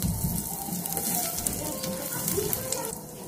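Whole cumin seeds and asafoetida sizzling in hot oil for khichdi, a steady, close crackling fry with no talk.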